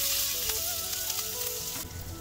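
Finely chopped green chillies sizzling and crackling in hot oil, a continuous close frying hiss for rava idli preparation, with a slight surge near the end.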